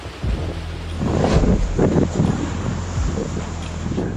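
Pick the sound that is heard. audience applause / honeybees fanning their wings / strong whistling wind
strong whistling wind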